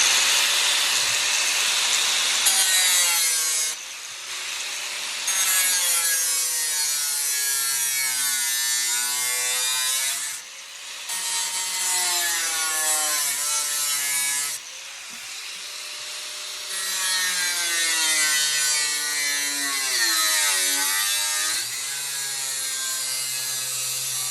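Something being chopped up with a powered cutting tool, which runs in long continuous buzzing bursts with brief pauses between passes, loud and close with no talk.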